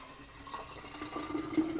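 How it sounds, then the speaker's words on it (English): Tap water pouring into a Trio decanter, a steady low splashing fill that rises slightly in level toward the end, close and alone. "take tap water and simply pour it inside the decanter"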